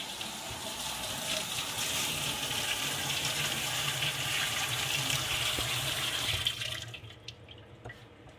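Water gushes steadily from a tap while an animal leg is washed after plucking machine hair removal, loud and continuous, then cutting off abruptly near the end.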